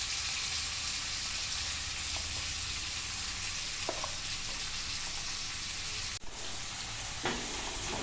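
Tomatoes and onions sizzle in a pan on a gas stove for a pork dish, a soft, even crackle running throughout with a few sharp clicks and stirring knocks.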